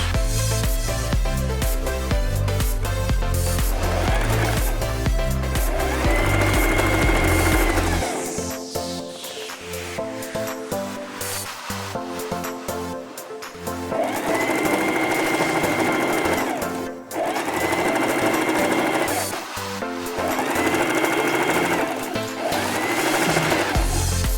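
A sewing machine runs a back stitch along a folded hem, a steady motorized whir in longer bursts with short pauses between, close and loud, while music plays underneath throughout.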